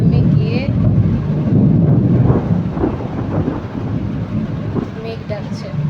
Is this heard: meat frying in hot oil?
no